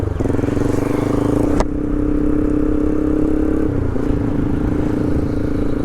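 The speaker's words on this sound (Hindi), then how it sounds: "भाई से एग्जॉस्ट की ना साउंड तो बड़ी गजब आती है यार" A TVS Raider 125 with an aftermarket exhaust pulls away in first gear, its engine note steady and loud close up, with a brief rise before a shift settles into an even drone.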